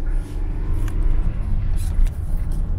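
A Nissan Micra K11 drives along a narrow, winding country road, its engine and road rumble steady and loud from inside the cabin, with a voice faintly present.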